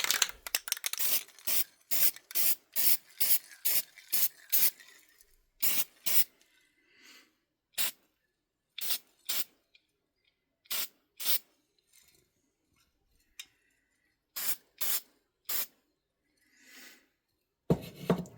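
Primer is sprayed onto a piece in short, loud, close hissing bursts from a spray can, at first in a rapid regular series, then in scattered pairs separated by quiet gaps.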